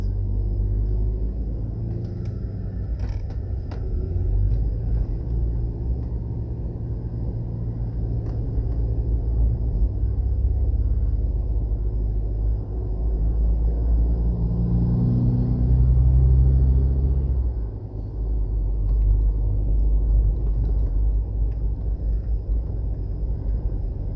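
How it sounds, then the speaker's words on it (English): Steady, heavy traffic on a busy main road near Kingston, Jamaica, leading into St. Catherine: continuous low engine rumble and tyre roar from passing cars and trucks, swelling as a louder vehicle passes close, with no talk. "So you find this route has more traffic on it."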